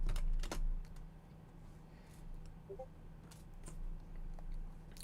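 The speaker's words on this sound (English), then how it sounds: "I can hear you typing away" Typing on a computer keyboard, a run of quiet, scattered clicks at a moderate distance with a low steady hum beneath, and no talking.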